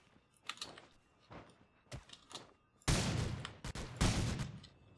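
Sniper gunfire in the video game Rules of Survival: a few sharp clicks, then two loud, close shots that each ring out briefly.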